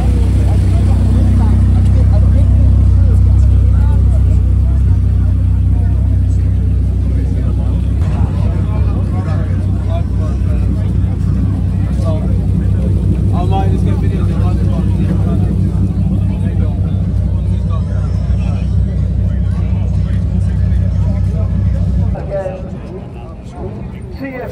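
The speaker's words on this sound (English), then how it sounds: "Last McLaren making its way, chasing down and amassing at the top of the runway." A McLaren hypercar rolling up the runway at a supercar festival: a loud, sustained low engine drone lasting most of the time, with voices talking over it, then fading sharply near the end.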